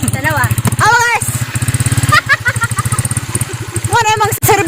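A habal-habal motorcycle taxi engine drones steadily and loudly during the ride, its mid-pitched putter running throughout while people talk over it close by.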